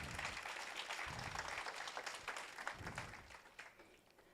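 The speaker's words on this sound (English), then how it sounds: "a bigger round of applause." An audience at an annual general meeting applauds in a steady, dense round of clapping that holds at an even level for several seconds, then tapers off slightly toward the end.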